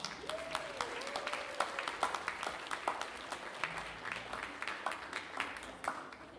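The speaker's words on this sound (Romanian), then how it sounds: "Aplauze pentru părinții spirituali," Wedding guests applaud the godparents at a reception, a steady, fairly faint patter of many hands clapping for several seconds, with a brief tonal whistle or voice-like sweep early on.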